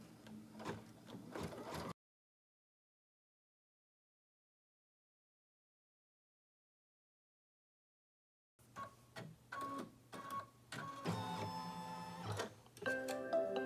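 An embroidery machine stitches a HEPA vacuum-bag-lined face mask in the hoop, giving a rapid mechanical ticking and whirring. Two bursts are separated by several seconds of silence, and the later burst is busier and louder.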